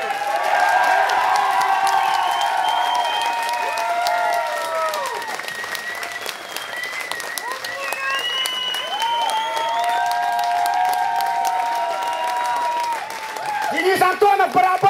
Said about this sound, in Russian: давайте похлопаем Дениса